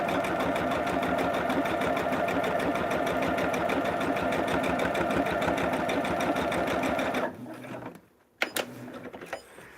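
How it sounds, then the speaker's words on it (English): A sewing machine chain stitches half-square-triangle pieces of a Christmas batik quilt, its fast, steady mechanical whir running for about seven seconds before stopping and leaving near silence with a few small clicks. "Chain stitch. And we're just sewing on the solid line that's already there."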